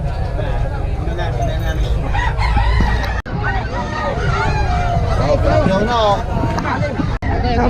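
Roosters crowing again and again at a busy gamecock market in Bocaue, the overlapping calls loud and close, over a constant crowd murmur and nearby chatter.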